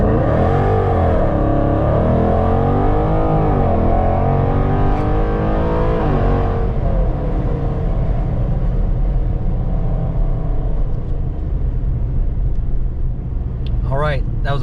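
A car with a 5.7 Hemi engine, 3.70 gears and Nitto 555R tires revs hard in a 0-60 pull, the loud engine tone rising and shifting over several seconds before easing off, with someone talking over it.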